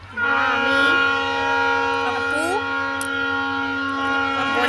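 A train at a railway station sounds a loud, sustained horn blast lasting several seconds over a low mechanical rumble, close by.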